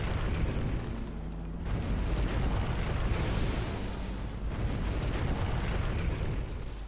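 Dense, rumbling booms and explosions roll continuously, heavy low-end blasts with no pauses, like sustained cannon fire in a Command & Conquer: Generals Zero Hour battle.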